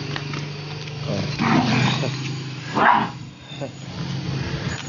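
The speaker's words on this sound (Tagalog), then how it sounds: "So ito yung mga kalaro niya, yung mga aso." Dogs playing together, giving a few barks and growls amid background noise, with a person talking over them at moderate distance.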